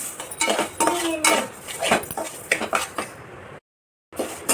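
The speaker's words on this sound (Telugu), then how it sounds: "ఇవి ఇలా గోధుమ కలర్ వచ్చేంత వరకు వేయించుకోవాలండి" A spoon stirs one cup of rice frying in a pan, making close, irregular metallic scrapes and clinks that stop briefly near the end.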